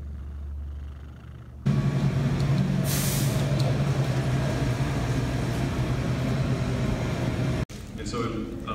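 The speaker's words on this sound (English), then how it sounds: "Do you hear this motor?" A steady engine drone rumbles loud and low throughout, with a brief dip near the end; no one speaks.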